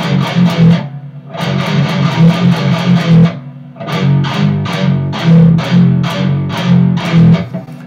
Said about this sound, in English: I've got this really cool little fast downstroke riff here, and I'm playing this with power chords